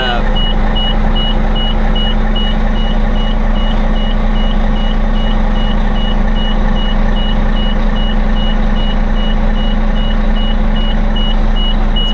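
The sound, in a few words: LVSR HEMTT military truck starting up with warning beeps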